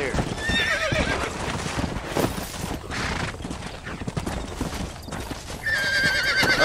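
Horse hooves clip-clop and a horse neighs and whinnies in the Western game Red Dead Redemption during horse breaking, with loud, busy hoofbeats throughout and a shrill whinny near the end, over game background sound.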